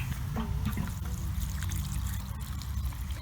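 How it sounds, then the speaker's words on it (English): Water poured from a can into a freshly planted flower pot, a soft continuous trickle and splash soaking into the potting compost, fairly close and steady, with no voices. "then we're just going to water that in."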